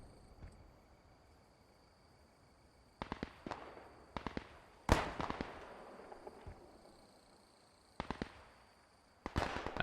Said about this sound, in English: I heard the mortars shooting over here.